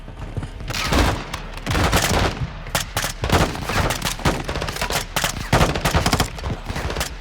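Dense covering gunfire from Call of Duty Modern Warfare II, with rapid overlapping automatic bursts and heavy booming shots crackling loudly and nearly without pause throughout.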